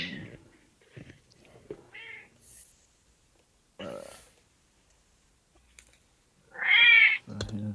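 A house cat meows several times at close range in short, separate calls, with a louder, drawn-out meow near the end and quiet gaps between.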